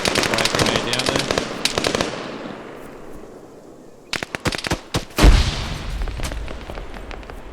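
A grenade blows up in the ArmA 3 Apex shooter on the Tanoa map: a loud, deep boom that rolls off slowly, set among bursts of crackling gunfire and sharp reports.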